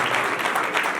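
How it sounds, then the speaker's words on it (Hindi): Audience applause at a church family sermon, a brief burst of steady, dense clapping from a crowd, moderately loud and continuous. "जोरदार ताली दीजिए"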